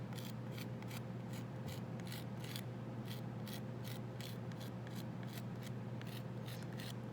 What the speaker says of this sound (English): Grab your metal rib tool. Just go in